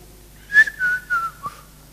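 A preacher whistles a short tune in imitation of a man whistling, a few close, clear rising-and-falling notes with no talk over them.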